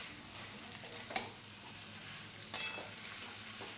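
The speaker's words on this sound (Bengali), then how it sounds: "দিয়ে ভালো করে মিশিয়ে নেব।" Chicken vegetable pasta with tomato sauce sizzles softly in a pan, and two distinct scraping strokes mark the stirring; nobody talks.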